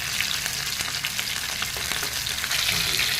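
Two fish heads frying in hot oil for a Bengali lentil dish crackle and sizzle loudly and continuously up close, with small popping spatters throughout and no voices.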